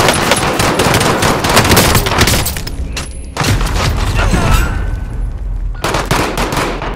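Call of Duty gunfire roars in loud, rapid automatic bursts with booming reports, nearly continuous with a short lull around three seconds and another before six.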